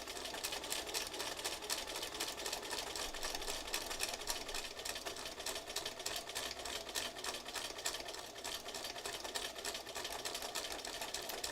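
A sewing machine stitches steadily and continuously, securing fabric patches in place, with a fast even needle rhythm at close range and no voices.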